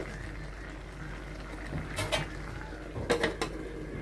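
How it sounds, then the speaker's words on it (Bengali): A metal lid is set onto a cooking pot for a mixed vegetable and chicken curry, heard as a few close clinks and rattles over a quiet kitchen background hum. "এখন ঢেকে দেব"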